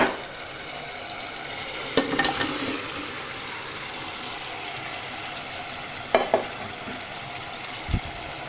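Beef dropped into frying biryani masala and stirred, heard as a low continuous sizzle broken by a few sharp spoon-and-pot clanks spread across the stretch.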